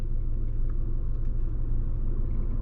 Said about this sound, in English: I'll let this Celica pass me